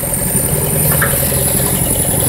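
A front loader's engine idles, a loud steady low rumble with constant vibration and no clear change in pace throughout.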